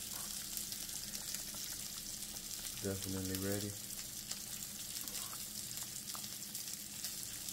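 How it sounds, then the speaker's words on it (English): A pot of linguine boiling on a stovetop gives a steady, close bubbling hiss throughout, with a voice briefly speaking partway through. "pasta been boiling"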